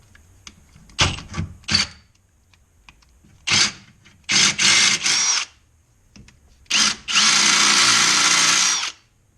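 Short bursts of a power drill boring into the plastic bumper of a BMW E36 M3, several quick stabs followed by a few longer runs, the last one sustained for about two seconds, close and sharp against near silence.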